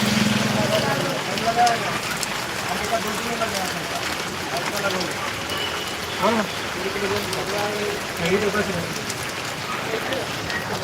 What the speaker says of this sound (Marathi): हळूहळू पाऊस वाढायला आहे